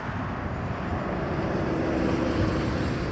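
A British Airways Airbus A350-1000 airliner at Toronto Pearson airport makes a steady, deep jet roar with a broad rumble that holds at an even level throughout.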